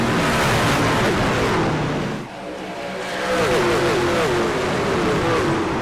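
Racing trucks of the C.O.P.S. Truck Series at Charlotte Motor Speedway roar past as a loud, continuous engine drone, dipping briefly, then swelling again as more trucks pass.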